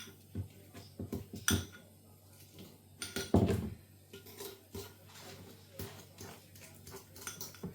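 Garlic and softened butter being mashed together in a bowl for homemade chicken kievs, giving close, irregular clinks and scrapes of utensil against the bowl, with a louder knock midway and soft shuffling between.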